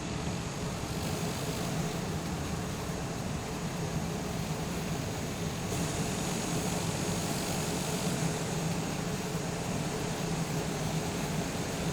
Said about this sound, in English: So we're taxiing along here.